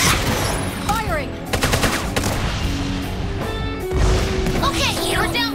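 Gunfire in the tactical video game Persona 5 Tactica, loud bursts of rapid shots and sharp impacts layered with game effects, while a player talks over the action.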